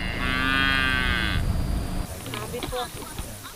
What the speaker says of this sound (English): We are accorded a rousing welcome by these cattle